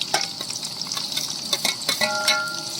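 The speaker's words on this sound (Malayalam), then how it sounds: "സവാള ഇട്ട് നമുക്ക് ഒന്ന് വാട്ടിയെടുക്കാം" Sliced onions sauteing in a hot pan for a Kerala coconut tuna fish-head curry, a steady bright sizzle broken by scraping stirs and sharp crackles, close and with no voices.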